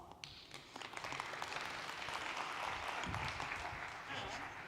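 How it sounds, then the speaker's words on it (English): A conference hall audience at a sustainability forum claps steadily for several seconds, a dense, even patter of applause welcoming a speaker to the stage. "Round of applause."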